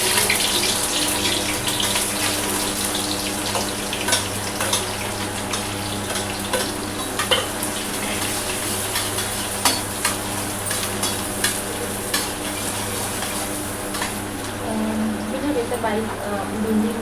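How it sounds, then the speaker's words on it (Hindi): Thinly sliced long onions frying in very hot oil, a continuous close sizzle with stirring clatter and occasional scrapes throughout, with some background noise. "बहुत ज़्यादा गर्म हो चुका है। डालेंगे हम इसके अंदर प्याज, जो मैंने बारीक बारीक लंबी लंबी काट ली है"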